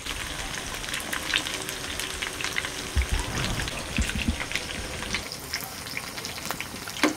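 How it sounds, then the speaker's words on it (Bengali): Magur catfish frying in hot oil gives a steady, dense sizzle with scattered crackles and small pops, close and continuous throughout, with no talking. "মাছ ভাজা বেশি কড়া করলে খেতে ভালো লাগবে না"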